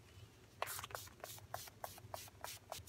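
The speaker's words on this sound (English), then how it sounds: "now giving myself a spray with some Urban Decay All-Nighter" Urban Decay All-Nighter setting spray is misted onto a face in a quiet room, a rhythmic run of about eight soft, short hissing spritzes close to the microphone.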